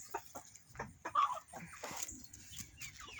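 Chickens clucking softly while they eat, a series of short, scattered calls at close range, fairly quiet against a faint background.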